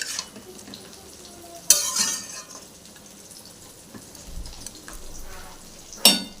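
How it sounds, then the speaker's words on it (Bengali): Salted ash gourd is stirred in a hot pan with a spatula, a soft sizzle running throughout, broken by a couple of sharp scraping clanks of utensil against metal. "লবণ দিয়ে একটু নাড়াচাড়া করে ঢাকা দিয়ে দেবো"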